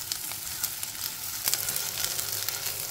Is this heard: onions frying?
yes